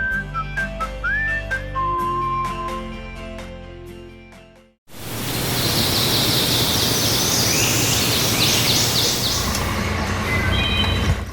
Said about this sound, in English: So the sound of that wood thrush